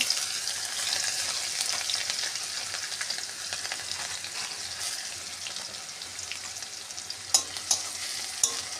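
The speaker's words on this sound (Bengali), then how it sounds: "রসুনটা একটু ভাজা ভাজা হবে, তারপরে আমি" Garlic frying in oil in a kadai, with dry chillies and black cumin, gives a steady, close sizzle. A few sharp utensil clicks near the end rise above it.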